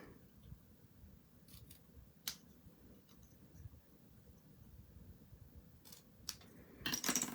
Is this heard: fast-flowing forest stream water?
no